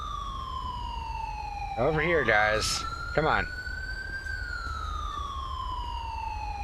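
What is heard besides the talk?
ambulance siren approaching in video game GTA V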